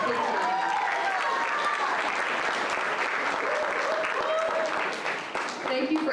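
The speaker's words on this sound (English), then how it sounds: "please make sure you give Miss Albert a round of applause" An audience at a high school senior awards ceremony gives a sustained round of applause, dense clapping filling the hall while a voice carries over it.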